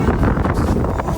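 Strong wind at the beach buffets the microphone, a loud continuous rumbling roar with gusty fluctuations and no voices.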